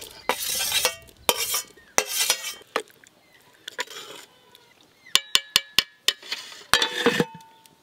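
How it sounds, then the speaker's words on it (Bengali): A ladle stirs cooked khichuri rice with paneer in a pot, giving bursts of scraping and clattering that repeat in uneven strokes, then a quick run of sharp metallic taps on the pot's rim near the end. "চাল খুব ভালো করে সেদ্ধ হয়ে গেছে, এবার নাড়ি নেব।"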